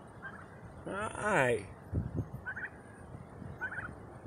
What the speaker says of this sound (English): These are our new baby turkeys